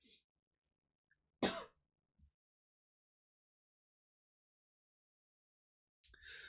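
A single sharp cough, close and fairly loud, in near silence; a soft click before it and a faint thump after, with a voice starting at the end.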